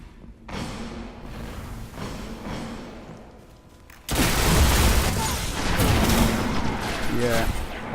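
Red Death pulse rifle gunfire from the Destiny video game rattles in bursts under a talking voice, growing much louder and denser about halfway through.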